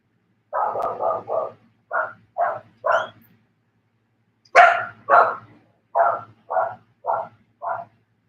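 A dog barks in a clear, close series of about a dozen loud barks, first in quick groups of three, then after a short pause in steadier separate barks, with no talk over them.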